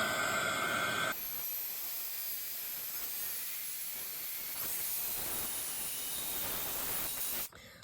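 An embossing heat tool blows a steady, loud hiss while warming embossing powder from underneath, a continuous rushing sound that runs nearly eight seconds alone and cuts off abruptly at the end.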